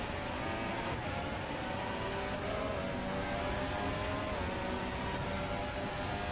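An F1 2014-era car engine in the F1 2022 racing video game drones steadily at high revs down a straight, a dense, continuous whine with slight pitch shifts as gears change.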